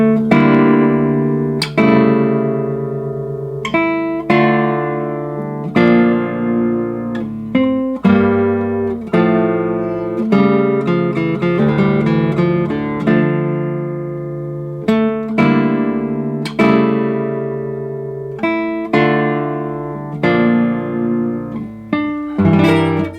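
Solo violin playing the Bach Chaconne BWV 1004, loud and close with rich sustained chords and rolled multi-note attacks repeating throughout, no talking.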